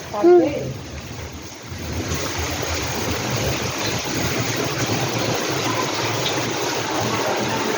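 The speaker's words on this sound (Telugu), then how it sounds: "అరే చూడండి అంత వాటర్ కొడుతుంది." Rushing, splashing water fills the scene continuously, with a brief voice at the start and a constant low roar underneath.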